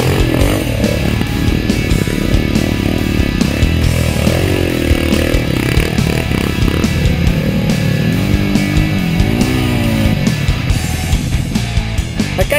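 A dirt bike engine revs loudly and close by, its pitch rising and falling repeatedly as the throttle is worked, with no pauses.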